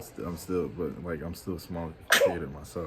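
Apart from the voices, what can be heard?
sneeze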